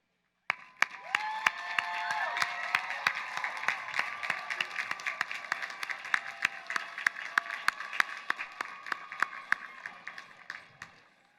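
A large commencement crowd at a university graduation ceremony breaks into sustained applause, a dense wash of clapping with scattered cheers that swells quickly, holds steady for several seconds and then tapers off.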